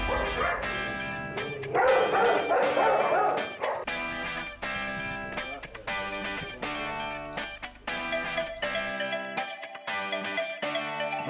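Two aggressive dogs barking repeatedly in choppy, overlapping bursts, close and loud, with musical tones underneath.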